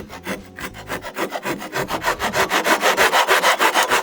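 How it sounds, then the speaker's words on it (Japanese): Hand tool shaving down a wooden piece during a DIY build, giving a steady run of rhythmic rasping strokes, close and loud, about a dozen evenly spaced passes that grow stronger toward the end. "ここをちょっと、これと同じようにね、削ってあげないといけないですね。"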